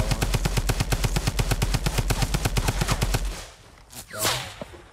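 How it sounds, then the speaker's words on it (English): Rapid automatic gunfire in the Fortnite video game, a fast even burst of about twenty-five shots lasting over three seconds, then quieter gameplay sounds and a brief voice. "I'll keep shooting."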